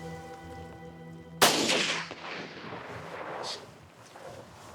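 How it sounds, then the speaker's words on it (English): A single loud rifle or shotgun blast during a spring or fall black bear hunt in Saskatchewan, a sharp crack followed by a long rolling echo that fades over several seconds outdoors. "Okay, here we go, fire in the hole."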